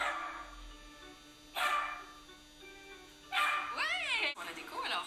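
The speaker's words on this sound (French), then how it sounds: "Et Sophie, les enfants, est-ce que vous saviez que mon chien, Cachou, sait compter?" A cartoon dog barks on cue to count stools, giving a few separate yapping barks with pauses between and a whimpering, wavering yelp near the end, close and fairly loud.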